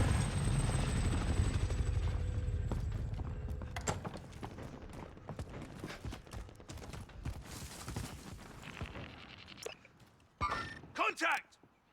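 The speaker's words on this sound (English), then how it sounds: "Hostile attack chopper carrying cash. Shoot it down." An attack helicopter in the Call of Duty Plunder game thumps loudly at first with rotor chop, then fades as scattered gunfire and game effects cut in, with a voice talking over parts of it.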